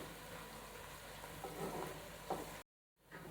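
Onions frying until brown in about half a cup of ghee, a steady close sizzle and crackle with light stirring, briefly cutting out near the end before resuming.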